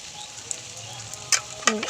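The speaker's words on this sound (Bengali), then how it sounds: "মশলাটা দেখুন ভালো করে কষিয়ে নিচ্ছি মশলা কষা প্রায় হয়ে এসেছে" Spice paste with turmeric being fried and stirred for a Bengali chicken curry: a faint, low sizzle with a couple of sharp spoon scrapes against the pan in a brief moment.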